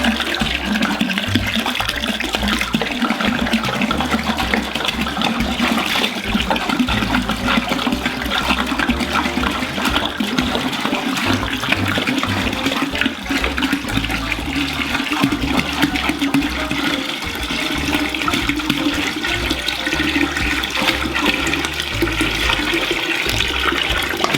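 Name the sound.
water pouring into a fermenter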